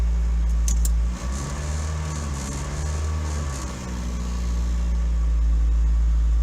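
A car engine idles unevenly while the transmission sits in drive, a steady low rumble with a slight dip and wavering in the middle, close and continuous with no talk.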